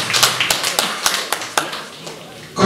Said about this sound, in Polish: Dziękujemy, brawa jeszcze raz.